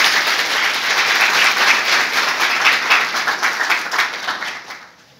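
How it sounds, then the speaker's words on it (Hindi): An audience breaks into loud, sustained applause to welcome a guest at a law event, dense clapping holding steady for several seconds before thinning out and fading near the end. "मैं चाहूँगा कि एक बार जोरदार तालियों से इनका स्वागत करें"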